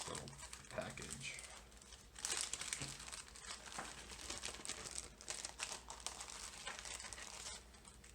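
A small package crinkles as it is handled and opened during the unboxing of a Gigabyte Aero 15 laptop with RTX 2070 Max-Q, a close, continuous plastic rustle with a few sharper crackles and no talking.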